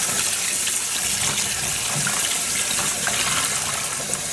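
Running water from a sink tap pours steadily over skeins of dip-dyed yarn being rinsed, a continuous close hiss and splash with no speech.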